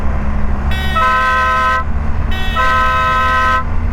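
Two loud, sustained blasts from a Denali air-style horn fitted to a BMW R1250GS motorcycle, each lasting about a second, close and over a low idling rumble.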